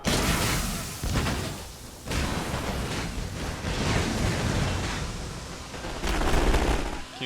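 Submachine gun bursts and grenade explosions in the game The Great War 6.0, repeated thumps and rattling fire, some landing in a forest, heard at a moderate distance, with a voice talking over part of it.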